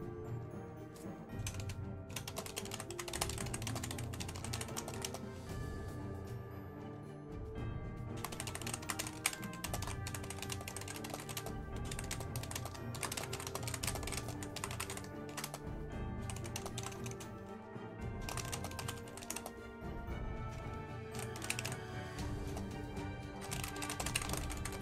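Computer keyboard typing clatters steadily in rapid bursts of keystrokes over a long stretch, close and fairly busy, with brief pauses between flurries and no speech.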